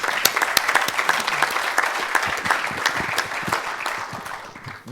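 A seminar audience at a judo refereeing and coaching event in Antalya applauds in a sustained, fairly close burst of clapping, with sharp individual claps standing out from the dense wash.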